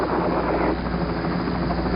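The recovery helicopter carrying the Apollo 11 astronauts to the carrier Hornet, a steady loud rotor roar with constant thumping throughout.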